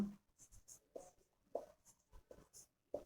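Pen writing a Hindi word on a board or paper during a lesson, heard as a few quiet, close scratchy strokes in short bursts with pauses between them.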